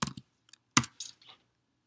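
Computer keyboard typing a search term on a website, a short burst of a few quick key clicks followed by scattered lighter taps, close and alone.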